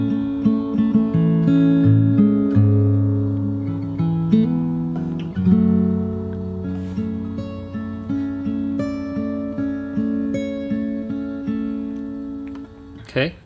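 Fingerstyle acoustic guitar picks through the verse of a song from Hamilton, sustained bass notes under plucked melody lines, played alone and close at a steady, gentle pace.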